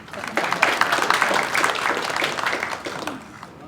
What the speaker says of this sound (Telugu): మీరు చప్పట్లు కొట్టచ్చండి ధారాళంగా